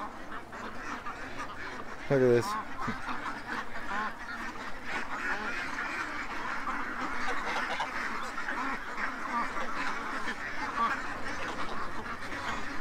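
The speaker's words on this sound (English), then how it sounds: "ducks." A flock of ducks quacks and chatters on a grassy yard lawn, a steady overlapping murmur of calls at moderate distance, with one sharp louder honk early on. Someone speaks briefly over them.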